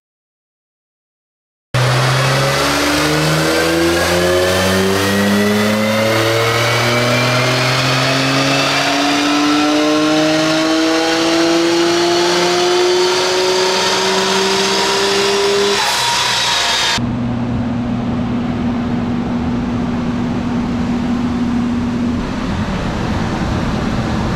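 Nissan Skyline GTR with HKS VCAM and DR500 turbos on a dyno, engine screaming loud as revs climb steadily in one long pull, then dropping abruptly to a lower steady drone.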